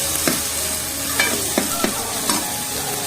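Ginger paste and tomatoes fry in a pan with a steady sizzle, while a spoon scrapes and stirs in several sharp strokes close by.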